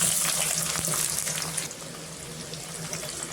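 Dried chillies, garlic and onion frying in hot oil in a pan, a steady close sizzle with faint stirring scrapes, no talking.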